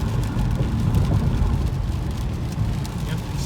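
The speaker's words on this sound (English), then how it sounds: "here's the rain sensing wipers doing its job." Rain-sensing windshield wipers work on a 2005 Cadillac STS in the rain, heard from inside the car under a steady low road and engine rumble with soft faint swishes and rain patter.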